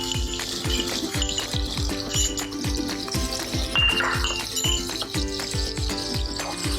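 Cumin, asafoetida, curry leaves and chopped green chilies sizzle in hot oil for sabudana khichdi, a steady close crackle with regular tapping strokes, no talk.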